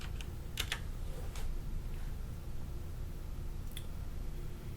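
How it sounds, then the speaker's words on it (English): Keys tapped on a computer keyboard, a few quiet, scattered clicks in short bursts against a low background hum. "I'll just type YouTube."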